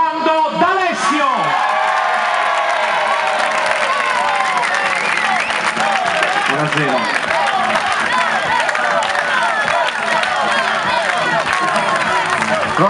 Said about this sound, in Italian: ti lascio all'applauso di questa bella piazza, questa piazza calorosa